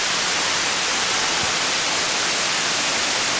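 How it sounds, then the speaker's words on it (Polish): Steady broadband rush of the Buracão waterfall in Brazil, a continuous even roar of falling water with no pauses, filling the scene alone at moderate loudness. "A wodospad jest tutaj."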